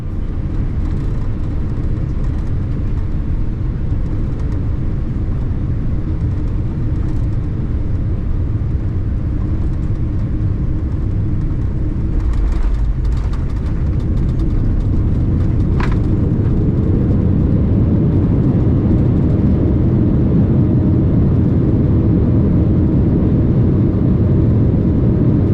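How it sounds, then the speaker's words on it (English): Inside the cabin of a KLM Boeing 787-9 on landing approach into New York JFK, a loud, steady engine and airflow roar fills the space, rising slightly and deepening partway through, with a brief rattle midway. "we were quickly approaching New York JFK Airport. So let's watch this landing"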